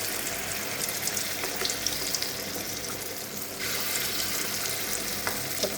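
Lentil-paste fritters (bora) fry in hot oil, giving a continuous close sizzle and bubbling with light clatter and stirring, and the hiss brightens partway through.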